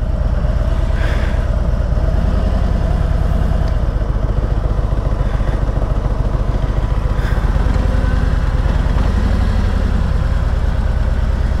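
A Harley-Davidson Tri-Glide Ultra trike runs steadily while circling slowly, its low, even engine rumble close and continuous with only slight throttle swells.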